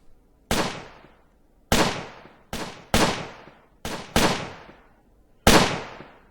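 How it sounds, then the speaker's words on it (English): Grenades detonating in the wartime tactical game Close Combat, seven sharp, separate blasts at irregular intervals, each with a sudden crack and a decaying rumble, moderately distant over near silence with no talk. "Grenades going off somewhere."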